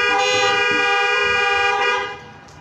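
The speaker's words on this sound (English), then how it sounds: "let me hear your horns right now" Car horns blare together in one sustained, loud chorus during a praise service, holding for about two seconds before quickly dropping away to quieter noise.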